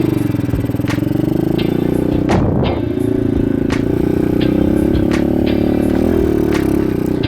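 A lightweight supermoto motorcycle climbs a small hill, its engine droning steadily and close, with clattering tire and gravel noise and a brief rattling knock partway through.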